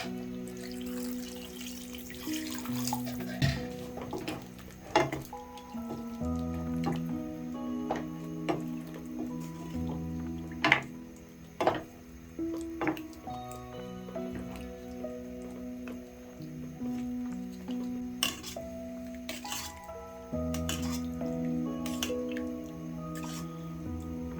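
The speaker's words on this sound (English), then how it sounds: "Then it's at this point that I'll also go in with some water." Water is poured into a pot of chicken stew on the stove, giving a steady splashing and dripping that runs for the whole stretch beneath a tonal background bed.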